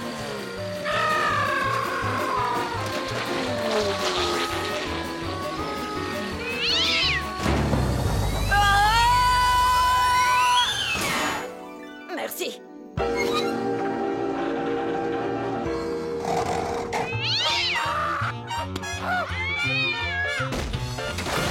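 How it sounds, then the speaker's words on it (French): A cat meows several times, drawn-out rising and falling cries over busy background music, with a brief spoken word. "voilà un chat haut en couleur"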